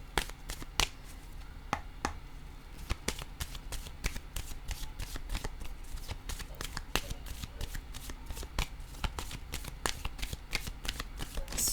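A deck of cards shuffled repeatedly, with crisp rapid riffles and snapping card slaps in a steady, irregular rhythm, close and fairly quiet.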